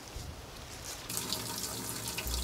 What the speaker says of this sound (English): we're going to test it and see how the water flows